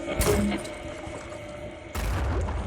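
A grenade blast in the tactical game Phoenix Point, a sudden loud explosive burst with booming rumble that decays, then a second heavy impact near the end, with no talk over it.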